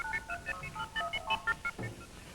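Rapid electronic blips from a radio monitor in a 1950s electronic-sound showcase: a quick, irregular string of short tonal pips at shifting pitches, moderately loud and alone, with a brief lower burst near the end.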